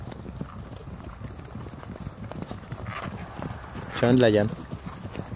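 Horse hooves clip-clop in a quick trotting rhythm, fairly faint and close to the ground, while a person speaks briefly over them.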